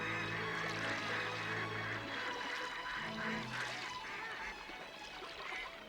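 A pair of wild ducks calls near water, a run of repeated honking quacks in a loose rhythm over soft trickling and background ambience, fairly close and moderately loud.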